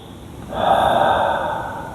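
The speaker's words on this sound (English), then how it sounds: "So breathing through the nose." A single audible intake of breath through the nose, close and fairly loud, rising after a half-second pause and holding steady as a long, airy sniff-like inhale with no talking.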